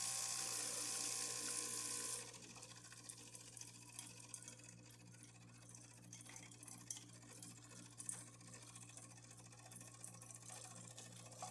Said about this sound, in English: this is the hot water.